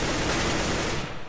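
Gunfire in the video game Counter-Strike: Global Offensive during a tournament match, a dense, loud burst of shots filling the clip before cutting off abruptly near the end.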